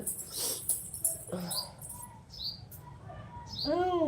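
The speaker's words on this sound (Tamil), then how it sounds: "குருவி கத்துறது சவுண்டு கேட்குதா?" Sparrows chirp outside a home in the evening, with short scattered tweets and a longer warbling call at the end over a faint background hum.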